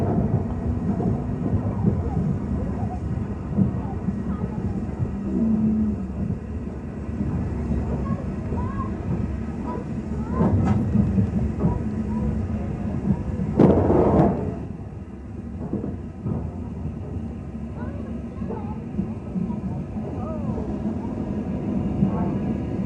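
A Southern Railway Schools-class express steam locomotive running on the Great Central Railway gives a continuous, loud, rumbling roar that holds steady throughout, with a brief louder surge near the middle.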